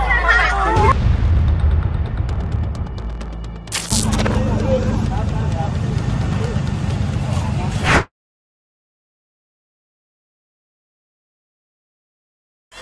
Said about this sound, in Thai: เสียงปืนได้ยินไหมครับ